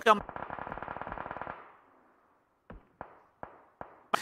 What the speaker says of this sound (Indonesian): Tapi tembak-tembakan dari arah lain pun memberikan damage kepada seorang Six